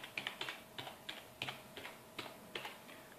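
Typing on a computer keyboard while naming a computer during Windows 8.1 setup: irregular bursts of close, crisp key clicks in short clusters, quiet and alone with no talking.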